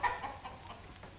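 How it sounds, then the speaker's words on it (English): Chickens cluck briefly at feeding time on a farm, a short burst of soft, fairly close clucking lasting about a second, with no talk. "Hello, chickens. I'm bringing you your dinner today."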